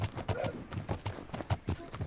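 Horse hooves clip-clop in the video game The Legend of Khiimori, a quick, steady series of close, crisp strikes over soft ambient game noise.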